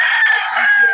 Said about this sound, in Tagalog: May mga manok ni Boss Joey.